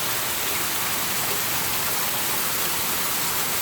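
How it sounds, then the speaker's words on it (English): Heavy rain pours steadily on a dark, gloomy fall day in Florida, a dense, unbroken hiss of downpour close by with no voices. "It is raining really, really hard, and I love it."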